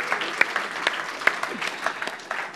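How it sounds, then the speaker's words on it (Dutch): Scattered applause during an interview, a thinner gathering of claps with distinct individual hand strikes popping out irregularly, moderate in level and without talk. "Applaus."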